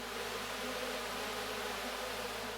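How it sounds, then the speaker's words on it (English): A designed bee swarm effect built from layered insect buzzing forms a dense, steady, noisy drone with a low hum underneath, continuous and even throughout. "The next 6 layers act as the bulk of the swarm sound."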